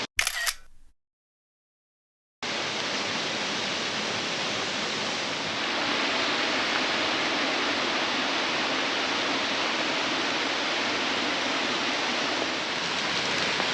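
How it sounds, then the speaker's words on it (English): Waterfall at Plitvice Lakes National Park, a steady broadband rush of falling water that runs continuously after a brief click and a moment of silence at the start, with no voices present. "And our first waterfall."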